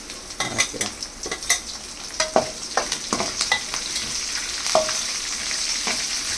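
Green and dried chillies tempering in hot oil for idli upma, a steady close sizzle broken by sharp stirring scrapes and clinks of a spoon against the pan, no voices.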